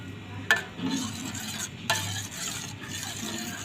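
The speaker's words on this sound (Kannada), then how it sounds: "ಇದನ್ನು ಸ್ವಲ್ಪ ಕಲಿಸ್ಕೊಳ್ಳೋಣ ರೀ" Buttermilk sambar being stirred in a pot, with two distinct spoon knocks against the metal over a soft, continuous low bubbling.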